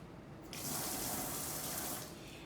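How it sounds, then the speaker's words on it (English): Fresh thyme is rinsed under a running kitchen tap, with water starting abruptly and gushing steadily for about a second and a half before cutting back. "So I'm just gonna rinse this off."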